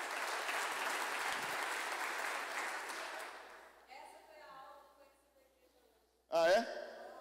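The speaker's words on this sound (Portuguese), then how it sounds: "Dá aplauso para o Senhor." Church congregation applauding during a Portuguese-language sermon, a dense, fairly quiet clapping that fades out after about four seconds, followed by a lone voice speaking and then a brief loud shout.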